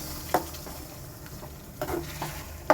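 Blended tomato juice stirred into frying masala for tomato rice, a soft steady sizzle with a few sharp spoon scrapes and clinks against the pan.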